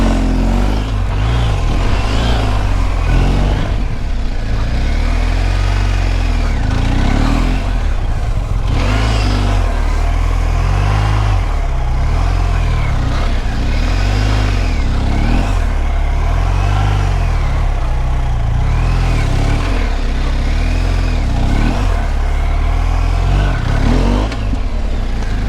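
Police motorcycle accelerating hard at full throttle through a timed run, loud continuous engine roar with rising and falling revs as it shifts, close and dominant throughout.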